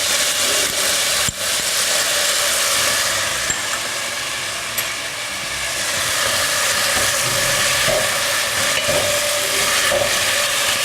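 Minced keema frying in hot oil in a pan with garlic and ginger, a loud, steady sizzle that crackles continuously close up, with no talking.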